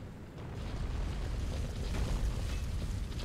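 In Dark Souls 3, a rolling object hits a wall and explodes into a deep, rumbling boom that swells and keeps roaring low and heavy for a few seconds, with no voices.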